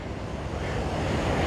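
Wind gusts over choppy ocean water at Waimanalo Beach, Hawaii, producing a loud, continuous broadband roar of surf and buffeting wind noise on the microphone, with no voices.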